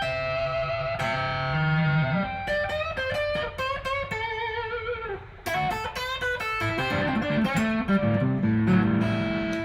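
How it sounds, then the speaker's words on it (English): Electric guitar with reverb played through a Catalyst open-back cabinet placed near a wall, sustained chords and single notes ringing out with a lush, washy tail, loud and continuous with a brief pause midway. "there's reverb on there."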